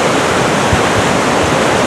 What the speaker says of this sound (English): You can see the river's eating away right at the foundation there